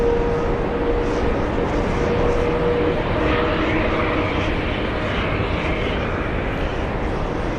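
An airliner departing JFK airport, its engines a steady broad roar that fills the scene without pause, with no voices over it.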